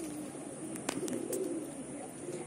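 A pet pigeon coos softly nearby, a few low, throaty murmurs rising and falling in a quiet room with no voices.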